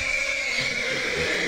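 A horse whinnies during a dressage riding lesson, a drawn-out, strained call over a steady background hiss with no talk.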